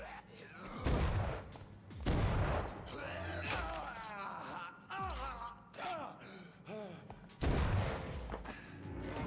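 Shotgun blasts in the video game Vampyr boom out as several heavy, close shots spaced a second or two apart, mixed with gasps and groaning vocal sounds from game characters and some music.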